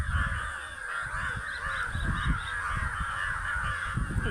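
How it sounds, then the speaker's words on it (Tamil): Two crows fighting in a tree, harsh caws rising over a steady, noisy outdoor background with constant hiss and low rumble, fairly faint and distant, repeated irregularly through the whole stretch. "அந்த 2 காக்கா சண்டை போட்டுக்குது"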